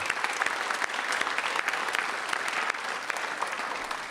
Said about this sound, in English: So let's give them a round of applause for all their work.